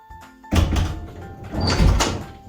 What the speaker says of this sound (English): I move the handle to open the door.